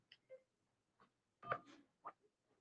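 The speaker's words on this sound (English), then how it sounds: "You can also press 1 for yes and 2 for no." Telephone keypad DTMF tones during an automated mobile carrier support call: a handful of short, separate beeps at uneven spacing, fairly faint and clean over near silence.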